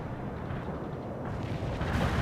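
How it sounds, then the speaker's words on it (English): Artillery strikes in World in Conflict sound as a low, distant rumbling barrage. The dull thuds swell slightly toward the end, with no speech. "Artillery strike completed."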